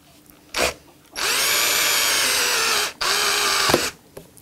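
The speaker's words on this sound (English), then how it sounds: "now I can go to a standard twist drill, which isn't going to be totally destroyed" A standard twist drill bores into guitar body wood: a brief tap, then a long steady power-drill whine, a short pause, and a second sustained burst of drilling, loud and close.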